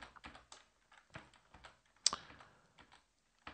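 Typing on a computer keyboard while entering C++ code, heard as quick irregular clusters of crisp key clicks with short pauses between bursts and one sharper, louder keystroke partway through.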